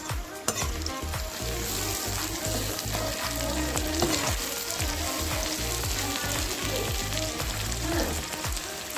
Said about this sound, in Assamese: এয়া আলু আৰু বিন ভাজিছে।